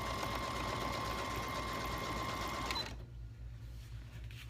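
Sewing machine stitching a decorative pillow cover at a moderate, controlled pace, a close steady mechanical whir that stops abruptly, leaving a low hum.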